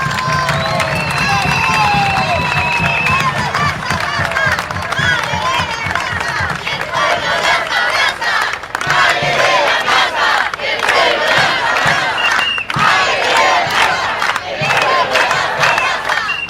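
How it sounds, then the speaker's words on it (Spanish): A large crowd at a gathering for the Mothers of Plaza de Mayo roars with cheering, shouts and chanting, loud and continuous, with clapping blended in. "Quiero primero que nada un enorme aplauso para las compañeras,"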